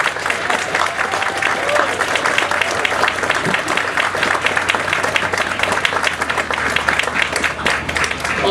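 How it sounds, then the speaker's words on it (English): A crowd at the rededication of the Murray Morgan Bridge claps for the governor in a steady, dense round of applause at moderate distance, continuing without pause throughout. "if we could give him another round of applause"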